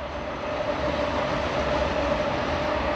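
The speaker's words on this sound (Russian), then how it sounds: "О, поезд." An MCD commuter train passes by near a roadside by the woods, a steady, loud rumbling roar with a faint tonal whine running through it, holding constant for the full stretch with no voices.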